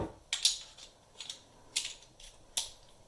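Holosun HM3X magnifier flipped to the side, giving several soft, light mechanical clicks and ticks spread unevenly over a few seconds, close and quiet with no voices.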